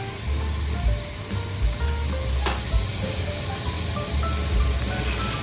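Meat sizzles steadily on a hot grill, a loud continuous crackle with light pops close by, slightly building toward the end, and nobody talks.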